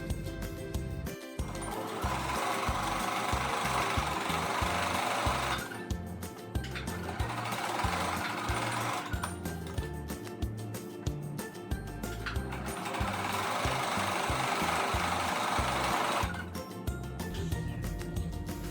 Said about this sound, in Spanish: ahí ya pueden pasar a la máquina de coser y cosemos de forma recta a lo largo para unir las piezas que faltan